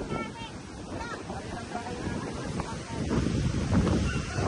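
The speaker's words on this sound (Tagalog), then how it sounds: "Ayan na, ang alon." Surging sea waves lash the shore near a house during Typhoon Carina, a steady roaring wash with wind buffeting the microphone, swelling louder toward the end while a person speaks faintly nearby.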